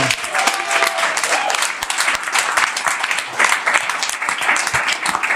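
An audience claps loudly and continuously, a dense wash of applause that holds steady throughout.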